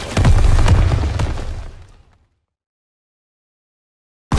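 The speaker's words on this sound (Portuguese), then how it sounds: "Jogando uma granada de fumaça!" Smoke grenade thrown in Call of Duty: WWII on Xbox One: a loud, close burst followed by a sustained roaring hiss that fades out over about two seconds, then silence.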